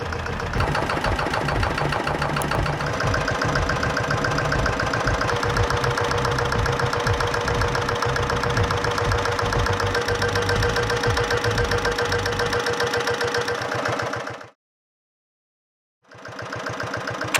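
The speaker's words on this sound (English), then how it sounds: "Diesel procedure. Peter PAZ-1 and a heavy Caterpillar." Vintage job-site diesels, a Peter PAZ-1 and a heavy Caterpillar, run with a loud, steady knocking clatter that drops out to silence near the end, then picks up again.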